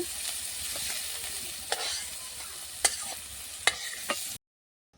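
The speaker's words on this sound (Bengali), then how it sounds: "ওর সাথে ডুমুরটাকে ভেজে নেব" Figs frying in oil in a pan, a steady close sizzle with occasional sharp pops and stirring clicks, ending abruptly in silence.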